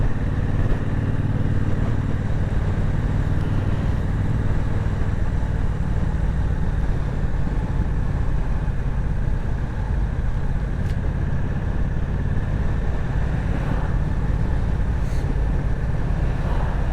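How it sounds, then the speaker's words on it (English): Engine of a Dakar-style buggy running steadily throughout, a loud, continuous low chugging rumble up close with no talking. "It's like a Dakar style buggy or something."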